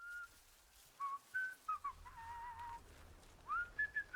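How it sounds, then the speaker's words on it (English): Someone whistles a wandering tune in the video game Atomfall, a thin, fairly faint melodic whistle with short notes and gliding pitches over quiet ambient background. "I don't know who's whistling."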